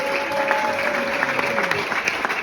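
A crowd applauds steadily at the French championship in Levallois, with continuous, even clapping and no talk over it.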